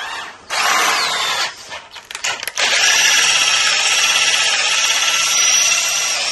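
A power drill bores a hole in the steering link part of a Bluetran Lightning electric scooter, a loud, close, steady whine that stutters briefly as it bites, then runs on continuously.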